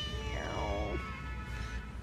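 A temple cat gives a single drawn-out meow with a falling pitch, close and fairly clear over quiet outdoor background at a Confucian temple in Suzhou.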